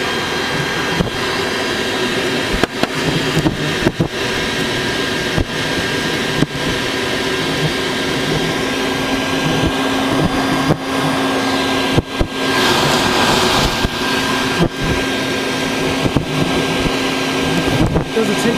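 A vacuum cleaner sucks bald-faced hornets out of their nest with a loud, steady motor roar, broken by frequent brief clicks and thumps as insects strike the hose, and a voice is faintly audible.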